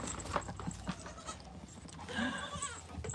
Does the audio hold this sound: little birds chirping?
no